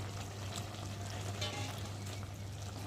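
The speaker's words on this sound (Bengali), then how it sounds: "আর এখন আমি মাছগুলোকে এর মধ্যে ঢেলে দেবো" Small fish tipped into a pot of boiling curry with potatoes, giving a faint continuous sizzling and bubbling hiss with soft splashy rustles.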